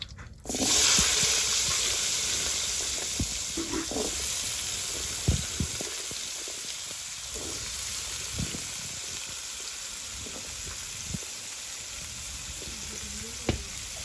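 Potatoes frying in a pan in a village kitchen, a steady close sizzle running throughout with occasional stirring knocks and scrapes, no talk.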